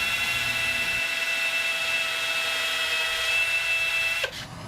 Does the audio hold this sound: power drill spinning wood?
yes